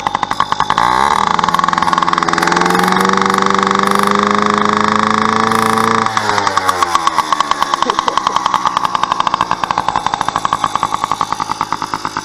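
A small motorcycle engine idles loudly and close by once the choke is turned off, its pitch falling and then settling into a steady putter.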